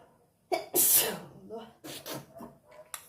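A loud, close sneeze erupts early on, followed by someone talking.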